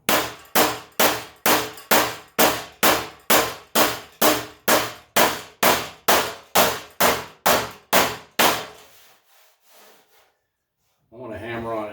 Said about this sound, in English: I don't want to hammer on it too much.